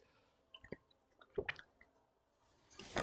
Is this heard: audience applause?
no